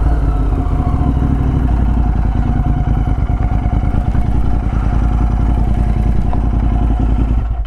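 A Royal Enfield Interceptor 865cc motorcycle with a Domino XM2 quick throttle fitted, its engine running close and loud with a steady, throbbing, clattery exhaust beat throughout.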